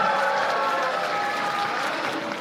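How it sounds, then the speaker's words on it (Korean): Audience applause fills the room as a dense, even wash of clapping that stays steady throughout and fades slightly toward the end, with no speech over it. "큰 박수로 맞이해 주시기 바랍니다"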